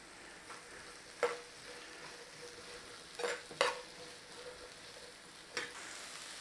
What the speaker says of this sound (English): In with our meat, let all that cook together in there. Start breaking your meat up.